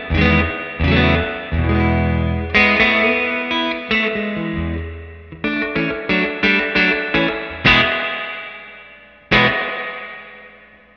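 Electric guitar played through the spring reverb tank of a 1967 Fender Deluxe Reverb amp, with loud strummed chords and single picked notes each leaving a boingy, splashy spring tail that rings out between hits.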